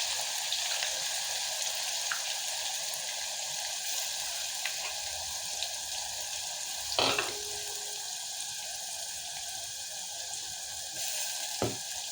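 Steady, close sizzling and crackling of cumin frying in hot oil in a pressure cooker throughout, with a couple of brief clinks of a utensil.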